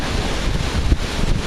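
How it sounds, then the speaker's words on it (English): Steady, loud wind buffeting the microphone, a low rumbling roar that fills the whole moment without letting up. "Sorry about the wind."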